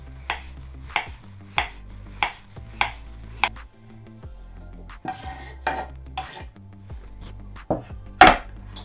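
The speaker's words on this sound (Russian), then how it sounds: "Перчик делим на 4 части и нарезаем вот такими тоненькими четверть кольцами." A knife slices a bell pepper into thin rings on a cutting board in a steady rhythm, about a dozen crisp close strikes, with a faint sizzle in the background.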